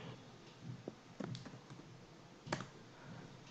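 Computer keyboard typing at a terminal, a handful of quiet scattered clicks and keystrokes, faint against a low background hiss.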